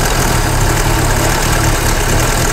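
Engine of a Nissan car idling just after being washed, a loud, steady, close rumble with an even low drone and no voices.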